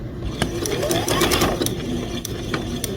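A Juki sewing machine stitches through thick quilted fabric while its hand wheel is turned, making a close, rhythmic run of mechanical clicks and whirring.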